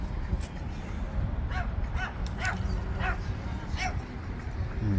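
Dogs bark in a few short, sharp yips along a quiet riverside walkway, a handful of separate calls heard at moderate distance over steady outdoor background noise.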